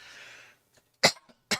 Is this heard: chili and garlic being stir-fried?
no